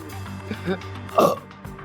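A short, rough burp from a person, one low throaty burst standing out briefly amid quieter background sound and voice.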